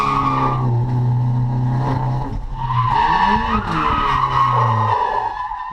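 Race car cornering hard through the S-bends on a track day, with loud sustained engine drone shifting pitch and tires skidding and squealing through the turns, close and continuous.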